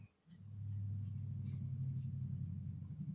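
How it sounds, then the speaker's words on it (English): A car with a loud exhaust rumbles steadily outside a house, a deep low drone that holds at an even level for a few seconds after a brief quieter start, heard from indoors. "If his exhaust is loud enough to come through the mic inside the house"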